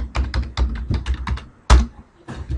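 Brisk typing on a computer keyboard, a quick run of close key clicks followed by one heavier thunk like a struck key, then a few more taps.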